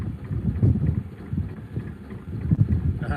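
Gusty wind buffets a microphone beside a narrowboat, producing a low, rumbling roar that swells and fades for a few seconds without speech.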